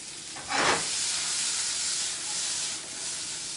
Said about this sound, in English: Little sauteed mushroom and green bean action.